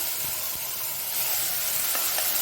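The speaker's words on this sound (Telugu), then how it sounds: "మసాలా అంతా వేసి వేగం చేయాలి" Ground masala frying in a pan with ginger-garlic paste for a dondakaya (ivy gourd) masala curry, giving a steady close hiss and sizzle with a few faint stirring scrapes, no talking.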